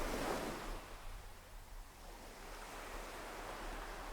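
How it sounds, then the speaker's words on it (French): Ocean waves roll and break on a shore in a steady, continuous wash, with a stronger surge at the start that eases into a constant, moderately distant roar. "Le bruit des vagues et l'air salé vous invitent"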